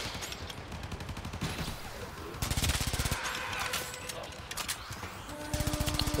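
Rapid automatic weapon fire from the video game Warframe comes in dense, loud bursts with brief pauses between strings, a fast mechanical rattle against a busy game soundscape.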